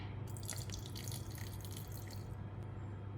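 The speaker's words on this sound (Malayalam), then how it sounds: "ഞാനിപ്പോൾ 2 ടേബിൾ സ്പൂൺ വെള്ളമാണ് ഒഴിച്ചത്" Water poured into a mixer grinder jar over rice, eggs and salt for a Kerala egg snack, a steady trickling splash lasting a few seconds with no talk.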